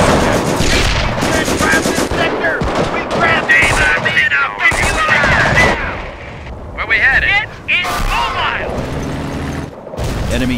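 Company of Heroes battle in the Ardennes near Assenois, with loud machine-gun bursts, rifle shots and heavy booms overlapping, and voices shouting over the combat.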